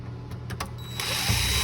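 A power drill whirs steadily while backing out screws from the touchscreen panel of a Mitsubishi Outlander, the motor tone rising and holding near and fairly loud over a low hum.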